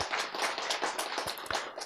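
Audience members in a lecture hall clap together in a short, scattered burst of applause lasting under two seconds, moderately close.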